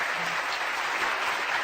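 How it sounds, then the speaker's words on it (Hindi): Strong, dense applause for award winners at a business launch event, a continuous even wash of many hands clapping. "आपके लिए जोरदार तालियां"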